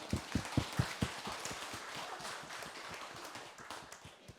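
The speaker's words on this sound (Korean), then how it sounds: "이때는 박수 한번 치는 거예요." Audience at a Korean Buddhist dharma talk clapping, a burst of sharp claps that quickly thins into softer scattered clapping, heard from a moderate distance.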